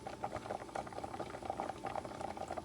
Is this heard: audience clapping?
no